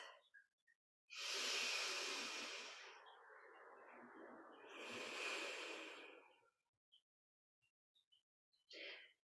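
Slow, full breaths during a morning yoga practice: one long airy inhale-exhale followed by a second shorter breath, close and soft, in an otherwise quiet room.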